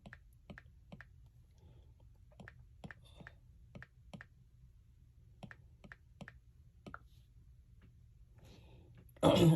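Keyboard typing, with light, sparse key clicks tapped at an uneven pace in a quiet room, ending with a sudden burst of noise.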